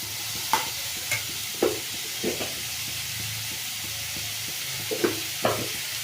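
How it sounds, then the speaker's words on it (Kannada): Onion frying in oil, a steady soft sizzle with about eight scraping spoon strokes spaced unevenly as it is stirred, close and clear. "ಈರುಳ್ಳಿ ಎಣ್ಣೆನ ಚೆಂದಾಗಿ ಫ್ರೈ ಆಗಬೇಕು"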